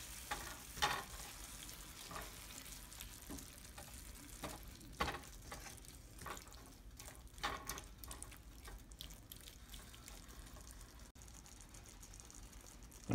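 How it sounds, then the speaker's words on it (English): Puttanesca sauce with chopped anchovies sizzles quietly in a pan while a utensil stirs it, giving soft scrapes and occasional clicks over a steady low frying hiss. "We'll give it a good stir."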